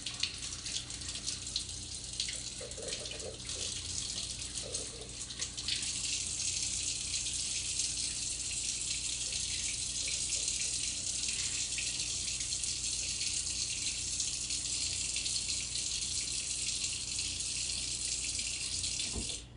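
Cold tap water runs steadily into a kitchen sink for the whole stretch, a constant close hiss and splash with no break and no talking.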